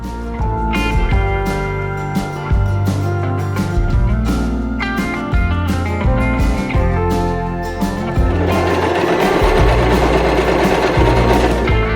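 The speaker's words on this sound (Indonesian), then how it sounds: "jahit dengan mode zigzag" A sewing machine zigzag-stitches fabric for a ladybug doll rapidly in bursts, its motor whirring with a steady mechanical chatter, close and loud.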